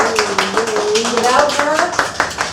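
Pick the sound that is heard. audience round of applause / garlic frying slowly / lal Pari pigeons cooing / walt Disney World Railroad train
audience round of applause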